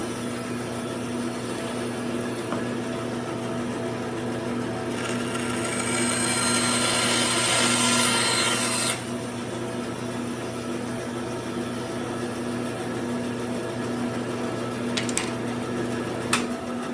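A bandsaw cuts a template for a Strat-style guitar pickguard, a steady machine hum running throughout with a louder, brighter cutting whine for a few seconds in the middle, then easing back to idle with a couple of light clicks.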